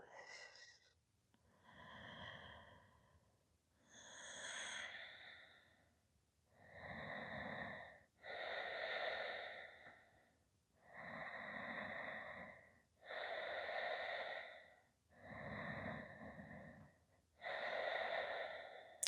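Slow, deep breathing during a yoga hip-opener stretch: about eight soft, close breaths, each inhale and exhale lasting a second or two with quiet pauses between, no talking.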